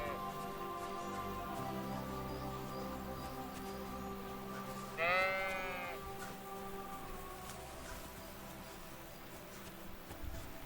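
A single wavering sheep bleat rises mid-way through quiet ambience in the medieval game Kingdom Come: Deliverance II, short and fairly close.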